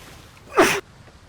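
A single sharp human sneeze, close and loud, bursting out abruptly over quiet background and cutting off after about a quarter second.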